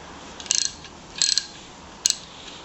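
Metal parts click and rattle in three short bursts while the intake tube is worked off a 1973 Briggs and Stratton 3hp engine, close and crisp against quiet background.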